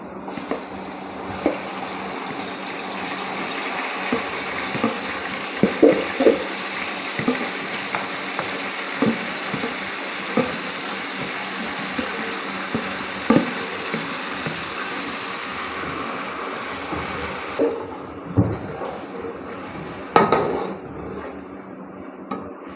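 Marinated chicken for chicken dum biryani frying in a pot, a steady broadband sizzle with scattered clinks and stirring knocks throughout, the sizzle briefly dropping near the end before more loud scraping hits.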